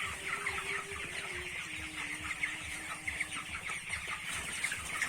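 Chickens cluck and murmur continuously at a poultry farm, a dense chorus of many birds close by with a low rumbling hum underneath and no talk.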